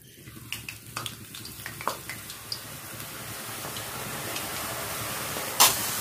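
Ribbon pakoda dough pressed straight into hot oil, frying with a steady, fairly loud sizzle and bubbling, a few soft ticks early on and one sharp click near the end, with no voices.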